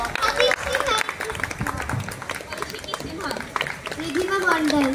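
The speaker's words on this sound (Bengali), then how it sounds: "একটু হাততালি তো হতেই পারে না?" An audience applauds after a children's recitation performance, a broad, steady patter of clapping that runs under a presenter speaking over it.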